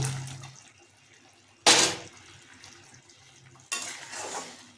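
Fried paneer pieces are tipped into a simmering gravy for paneer curry and stirred, two sharp clattering bursts of pan and utensil noise separated by quiet, close and fairly loud.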